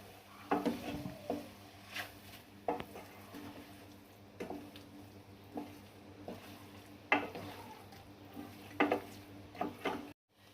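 Cooked soya chunks stirred in a pan for Kerala-style soya perattu, with a spoon scraping in irregular strokes over a faint, steady sizzle and no talking.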